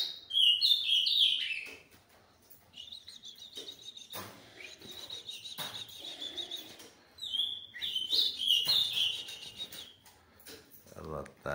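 Ultramarine grosbeak (azulão) kept as a caged pair, giving two bursts of bright, rapid chirping song near the start and end, with quieter rustling and faint background noise between.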